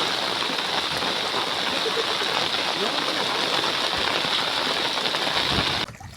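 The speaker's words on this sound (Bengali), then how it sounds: "প্রচণ্ড বৃষ্টি এসছে" Heavy rain pours down beside a river bank during a monsoon fishing outing, a dense, steady roaring hiss that holds at the same level throughout before dropping away abruptly at the very end.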